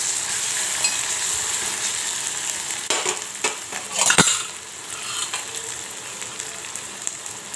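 Curry leaves hit hot oil and crackle into a dense, loud sizzle, with a spatula scraping and clinking against the pan as they are stirred. A sharp burst of spitting comes partway through, then the frying settles to a steady hiss.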